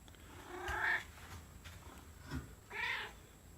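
Indoor house cat meowing near the microphone, two drawn-out meows about two seconds apart with a short chirp between them, against quiet background noise.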